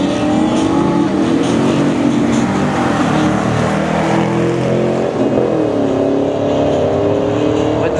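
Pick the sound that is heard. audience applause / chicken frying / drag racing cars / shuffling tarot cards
drag racing cars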